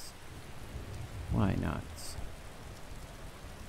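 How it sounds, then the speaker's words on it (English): Steady rain falls on the streets of Riften in Skyrim, a soft, even patter that runs throughout while someone briefly speaks over it. "welcome back to another ASMR Skyrim with a nice raining here in Riften"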